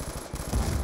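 A light machine gun fires a short burst of rapid shots in online multiplayer of the video game Call of Duty: Black Ops 2. The reports are loud and closely spaced, and they swell near the end.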